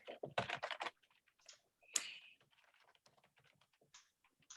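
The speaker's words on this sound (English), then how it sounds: "I'm typing my email address into the chat" Someone types on a computer keyboard while entering an email address into a chat, with a burst of loud rapid keystrokes followed by quieter, scattered taps up close.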